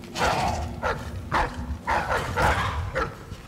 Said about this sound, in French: Ces chiens sont horribles.